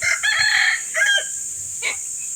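Nearby chickens cluck in a few short, raspy bursts, with a pause before a final brief call, amid quiet farmyard background.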